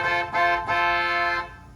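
Treble notes on the saxophone stop of a Style 41 American Fotoplayer, a harmonium reed voiced with stopped flute pipes: a few sustained reedy chords with three soft swells, fairly close and alone.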